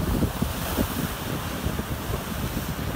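Sea waves surge against the rocky basalt shore at Ganh Da Dia in Phu Yen, Vietnam, a continuous loud wash mixed with gusty wind buffeting the microphone.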